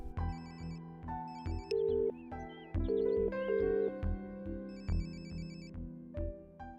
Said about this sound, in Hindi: रिंग जा रही है।